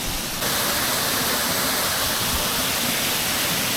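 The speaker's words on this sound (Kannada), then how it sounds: "ಒಂದು ವಾಟರ್ ಫಾಲ್ ಸಣ್ಣ ಇದ್ರೆ ಸಹ ನೀರು ಫುಲ್ ಕ್ಲೀನ್ ಉಂಟು." Powerscourt Waterfall in Ireland roars as a loud, steady rush of falling water that swells slightly just after the start and then holds constant.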